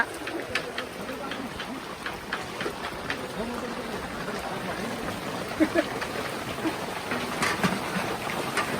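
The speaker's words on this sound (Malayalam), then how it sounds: "വയനാട്ടിലെ മഴ തീർന്നിട്ടില്ല വയനാട് കോപിച്ചിരിക്കുന്നു നല്ല മഴ" Heavy rain in Wayanad, Kerala, pours down in a steady, dense roar that keeps going without a break.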